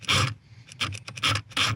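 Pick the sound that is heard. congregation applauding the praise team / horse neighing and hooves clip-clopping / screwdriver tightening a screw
screwdriver tightening a screw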